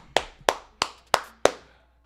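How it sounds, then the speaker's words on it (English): Five sharp hand claps in a steady slow rhythm, close and distinct, each followed by a short decay, then quiet. "clap it up, clap it up"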